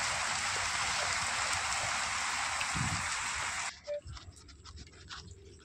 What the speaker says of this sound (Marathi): आणि अर्धा पाऊण तास झालं पाऊस चालू.